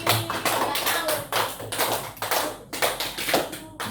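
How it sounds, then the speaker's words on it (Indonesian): Primary school pupils in a maths lesson clap together for a classmate, loud and close, in rhythmic patterned bursts separated by short pauses, with almost no talking. "Berikan tepuk tangan kepada Mariski."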